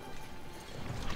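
Horses gallop in the video game The Battle for Middle-earth II, a faint, steady patter of hoofbeats blended into game background noise, with no speech.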